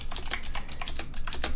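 Steady, brisk clacking of a mechanical keyboard with tactile switches, each keystroke crisp and close, a little louder than mouse clicks, with no talking.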